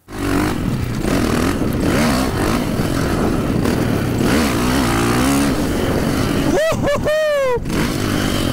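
A KTM 540 SXS motocross bike engine runs and revs loudly and continuously close by, with someone speaking French over the raw, buzzing exhaust note.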